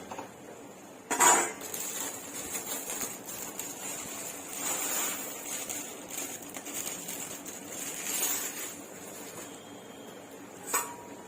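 A spoon stirs sweetened rice pudding (payesh) in a pot, made as a puja offering, with occasional clinks of metal against the pot over a steady low bubbling hiss; no talk.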